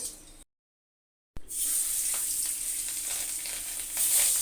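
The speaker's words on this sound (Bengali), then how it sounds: "পাঙ্গাস মাছ ভাজতে হবে একদম সাবধানে" Pangas fish fry in hot oil in a wok with a loud, continuous hissing sizzle that starts after a brief silent gap near the start and holds steady to the end.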